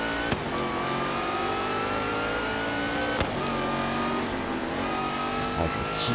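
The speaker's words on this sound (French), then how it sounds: "Le son de cette voiture." Car engine revving in Forza Horizon 3's Hot Wheels expansion, a steady loud engine note with pitch rising through the gears and brief dips at each shift, running continuously throughout.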